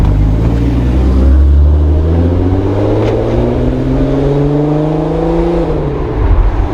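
A Volkswagen 2.8L VR6 engine idles up close with a deep, loud rumble, its low drone wavering slightly in pitch and swelling toward the end.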